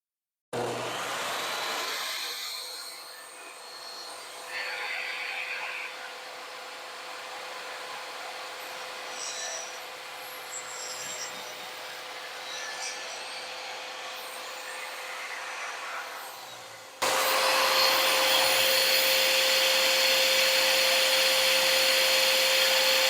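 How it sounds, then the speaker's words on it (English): Power saw cutting through a 2x4 board at about ten inches, a steady loud whining roar that runs continuously and grows louder and harsher near the end, with no talking. "Now we're going to take what's left of the 2x4 and cut it off at about 10 inches"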